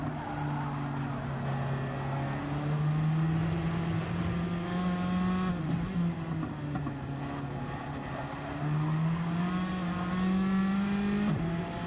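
A Radical SR3 race car in a Gran Turismo racing game, heard from on board: a steady high-revving engine drone rising and dropping through gear shifts, with faint tire noise underneath.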